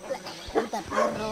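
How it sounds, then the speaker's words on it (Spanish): Several dogs bark in short, scattered yips and woofs at a jungle homestead in Colombia, fairly close and mixed with a person's voice over a brief stretch. "Ah, hay muchos perros."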